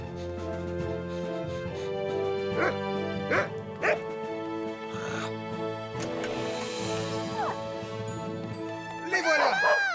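Several cartoon dogs bark and yip in short bursts over a steady musical background, with voices talking in between.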